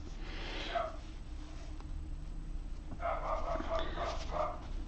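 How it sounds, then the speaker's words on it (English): A dog barks a few times in short bursts, somewhat distant, with a gap between two clusters over a low background rumble. "I'm just going to find out what Reggie's barking at"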